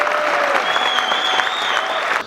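Warm applause from a dance-music event audience greets a performer, a dense, steady wash of clapping at close range that holds for a couple of seconds with a faint whistle-like tone riding above it.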